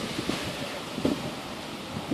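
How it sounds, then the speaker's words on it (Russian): Strong wind blows straight into the microphone, a low rumbling roar with irregular thumping gusts, fairly faint overall. "Ой, какой сильный ветер."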